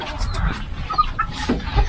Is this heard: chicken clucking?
yes